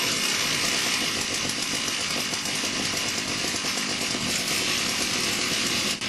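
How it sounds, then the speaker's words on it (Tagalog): A racing motorcycle engine built from 24 chainsaw engines screams at a constant high pitch, a dense buzzing roar that stays loud and steady throughout with no voices over it. "Ang tunog ay parang ilang grupo ng mga tagaputol ng kahoy ang nagpaandar ng kanilang mga chainsaw."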